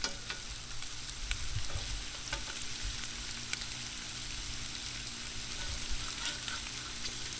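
Ham and sausage frying on a 22-inch Blackstone griddle, with bacon grease spattering around them: a dense, continuous sizzle with scattered sharp pops and crackles, close and steady throughout.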